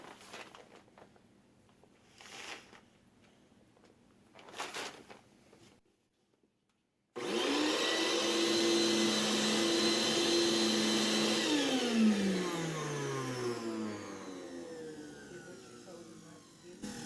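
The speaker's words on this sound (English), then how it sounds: "because this old vacuum cleaner is noisy" A loud old vacuum cleaner, used to clean a fireplace, roars steadily after a brief pause, its motor whine drifting in pitch, following some quieter handling noises.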